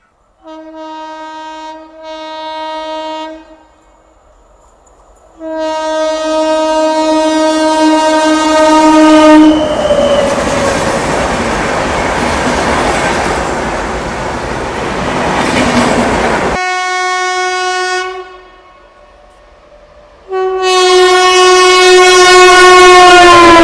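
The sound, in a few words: Azimabad Express (Ahmedabad–Patna) train passing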